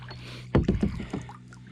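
A paddle strikes and pulls through water on a canoe or kayak, a few close splashing strokes in quick succession after a quiet lead-in.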